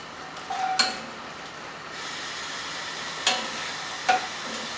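Garlic sizzles with bacon in a pan, a steady close frying hiss with a few sharp scrapes and clinks of a utensil.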